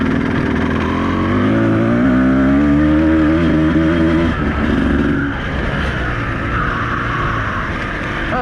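A Beta 200RR two-stroke dirt bike rides a motocross track, its engine loud and close with rising and falling revs that hold steady through most of the stretch.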